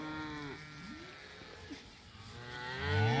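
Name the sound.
cattle mooing in tall grass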